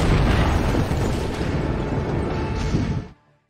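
A building blows up in a film scene: a loud, deep rumbling blast that roars steadily for about three seconds, then cuts off abruptly.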